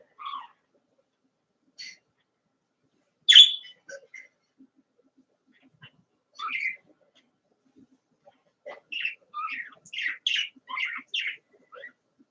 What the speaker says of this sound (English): Oh, the bird.